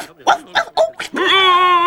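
A small cartoon dog gives a quick series of short, close yaps and whimpers, followed by a sustained high whine. A voice may be imitating the dog.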